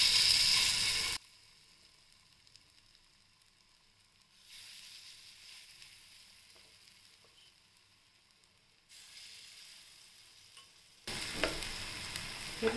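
Corn appe batter spooned into a hot oiled appe pan, a loud sizzle bursting at the start, then quiet faint crackling, with the sizzle rising again in stages toward the end.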